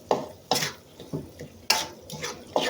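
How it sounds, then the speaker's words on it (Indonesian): Spices and seasonings go into a large wok while cooking spicy chicken feet, with a series of sharp metal clanks and scrapes from utensil against pan, irregular and close, with no talk. "kita masukkan semua bumbu-bumbu, kita pindahkan di wajan yang besar ya, seperti ini ya."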